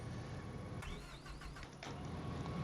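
Farm vehicle engine in Farming Simulator 25, a steady loud running drone throughout with a brief higher whine sweeping through the middle, heard alone without talk.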